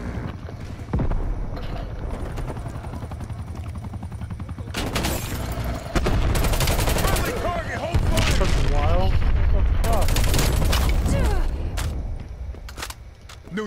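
Video game gunfire comes in rapid bursts and booming shots over a constant battle roar. The loudest clustered volleys arrive in the second half, and voices can be heard in the mix.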